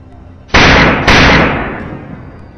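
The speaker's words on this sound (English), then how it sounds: "A single, decisive gunshot rings out, sealing off any chance of escape." Gunshots from hunters shooting wild boar that broke through a farm fence: two loud, sharp blasts about half a second apart, each trailing off in a decaying echo.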